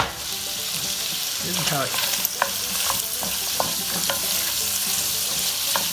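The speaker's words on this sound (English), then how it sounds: "I'm going to throw this onions in there now" Chopped onions fry and sizzle in a soup pot for kale and potato soup, a steady bright hiss with a few stirring scrapes and clinks, close and continuous, with a brief spoken phrase.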